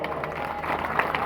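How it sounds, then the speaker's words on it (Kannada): An audience at a Shri Mahadeva temple fair in Siragapur claps for students, a brief burst of crowd applause with uneven claps and murmuring. "ಈ ಮಕ್ಕಳಿಗಾಗಿ ಜೋರಾದ ಚಪ್ಪಾಳೆ."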